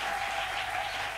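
Steady applause from a church congregation acclaiming Christ during a fasting and prayer service. It sounds dense and continuous for about a second, at moderate loudness, with no talking.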